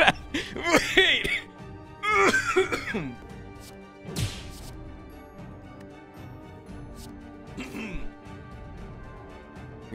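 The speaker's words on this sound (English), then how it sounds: "You guys got me coughing on that one" A person coughs in a few rough, close bursts during the first couple of seconds, followed by a softer throat sound and quiet breathing, with a little laughter-like voice mixed in.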